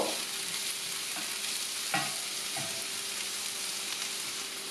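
Bell pepper frying in a pan, stirred now and then: a steady sizzle runs throughout, with a few sharp spoon scrapes and clicks against the pan, close and with no talking.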